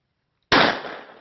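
One sharp, loud firecracker bang after a moment of silence, followed by a brief fading rumble.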